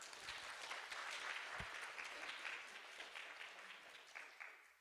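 Sustained audience applause at a rehabilitation and independence department academic festival, welcoming a student presenter; steady dense clapping that fades slightly toward the end, heard without talk.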